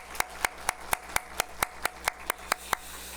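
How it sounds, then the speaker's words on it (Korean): A church congregation claps in encouragement for the Hallelujah choir after a Sunday praise service: about eleven distinct, evenly spaced claps in a steady rhythm, moderately quiet against a low room hum. "오늘도 귀한 찬양해 주신 우리 할렐루야 찬양대 우리 박수로 한번 격려하겠습니다."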